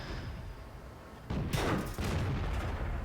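A World of Tanks cannon fires amid quiet background rumble, with a sudden loud blast followed moments later by a second heavy boom and a lingering roar.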